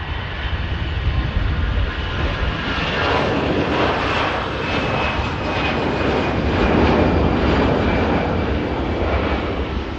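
An EasyJet airliner on its takeoff roll at Manchester Airport, bound for Lisbon, makes a loud sustained engine roar that swells and holds steady over ten seconds, heard from a distance with no talking.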